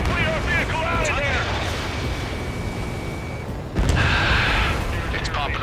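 Anti-aircraft guns fire in Ace Combat 7: Skies Unknown, a dense rumbling barrage with a heavier boom near the end, mixed with game radio chatter and sound effects.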